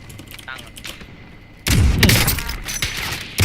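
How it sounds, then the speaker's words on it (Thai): Gunfire in the video game Call of Duty Warzone, loud dense shots and impacts that start abruptly halfway through after a quieter stretch, with voices talking throughout. "เฮ้ยมีคนยิงคนยิงคนยิง"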